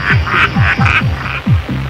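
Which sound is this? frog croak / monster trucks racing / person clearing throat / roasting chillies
frog croak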